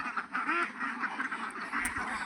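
A flock of ducks on a large duck farm quacking continuously, many overlapping calls at moderate distance with no speech.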